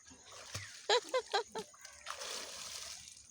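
Boys dive into a village pond to catch fish, a few quick splashes in succession followed by a longer sloshing wash of water, fairly close and moderately loud, with no talking.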